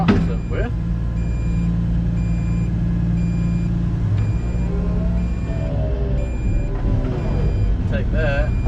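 Repeated electronic warning beeps from an unlocked coupler on heavy farm machinery ring out steadily over a loud, constant engine rumble.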